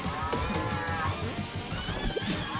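Cows in the video game Pizza Tower moo repeatedly at close range over busy game music and effects, several low drawn-out calls overlapping through the stretch.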